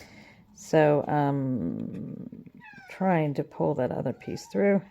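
A house cat meows repeatedly near the microphone while someone ties cord on a handmade gift box. Several drawn-out, wavering cries come in separate bursts, mixed with a person talking.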